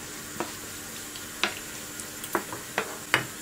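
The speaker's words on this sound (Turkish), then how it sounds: "Şöyle bir iki karıştırayım." A spoon stirs food in a pan, giving a handful of short, quiet scraping knocks at an uneven pace over a soft background hiss.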